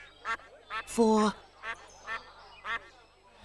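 A cartoon duck quacks in a short series of bright, nasal calls, one longer honk among them, heard close and clear with a voice speaking alongside.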